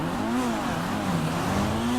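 The Vapid Flash GT in GTA 5 launches hard, its engine note rising and wavering as it revs and pulls away, loud and sustained.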